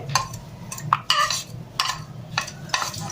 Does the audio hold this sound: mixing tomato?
yes